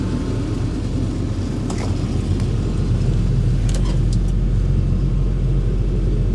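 A Shelby Cobra 427 V8 runs close by with a deep, steady rumble, and a few light knocks and clicks sound over it. There is no talking.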